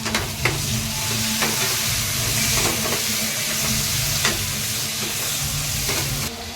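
Tomatoes hit golden brown onions frying in a pan, a loud continuous sizzle and hiss close up, with occasional stirring clatters and no voices.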